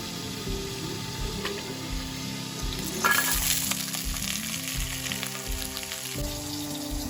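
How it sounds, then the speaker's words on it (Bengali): Steady, close sizzling of pumpkin, potato and Malabar spinach frying in oil in a wok, with a spatula scraping and stirring in a regular rhythm. "পটলগুলো ভেজে নিচ্ছি"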